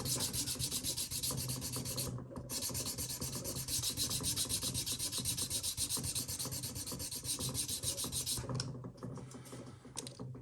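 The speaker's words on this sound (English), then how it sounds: "You can hear all the junk on my table rattling around with the effort." Steady rasping rub of a file or sanding block levelling the frets on a Japanese Strat, with loose junk on the tabletop rattling along with each stroke, close and continuous, easing off near the end.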